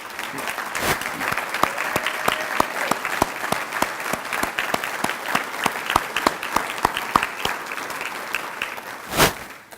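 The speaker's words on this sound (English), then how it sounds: "So, a round of applause." A banquet audience at the Bellevue Chamber of Commerce annual dinner applauds in a steady, even wave of clapping with sharp individual claps, holding at moderate loudness and swelling briefly near the end.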